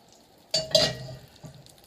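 About a tablespoon of butter dropped into a hot pan, a short sharp sizzle that flares, then fades quickly into a faint hiss.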